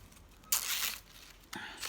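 Curling ribbon being ripped apart while making gift bows, with two short, crisp tearing bursts close by, the first longer, in a quiet room.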